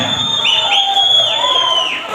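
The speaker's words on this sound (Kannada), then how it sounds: "ಜೋರ್ ಚಪ್ಪಾಳೆ" A large rally crowd in Chikkaballapur roars with loud, sustained cheering and applause, with shrill whistles cutting through the dense noise throughout.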